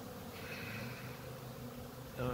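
Honeybees buzz around their hives outdoors as a steady, moderately faint drone with individual insects passing closer, before a louder rustle at the end.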